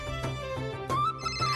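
A phone ringtone playing a bright, repeating melodic tune, with the call coming from the listener's mother; the ringing stands alone, loud and steady, with no voices.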